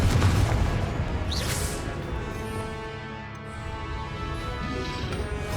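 Confringo fire spell blast in Hogwarts Legacy, a loud booming burst at the start that fades into a sustained rumbling, echoing tail with a brief whooshing flare midway.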